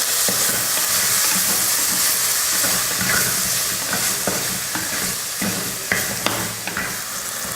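Tomatoes sauté in a pan with fennel seeds, cumin and pepper. A continuous close sizzle fills the pan, broken by scattered scraping and clinking as a spoon stirs.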